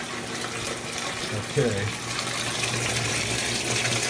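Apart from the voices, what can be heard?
warm water filling a Kenmore stacked washer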